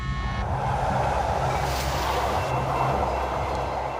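Trains running on railway tracks somewhere in California, a steady rumbling roar with a low hum that holds at an even, fairly loud level throughout, with no voices.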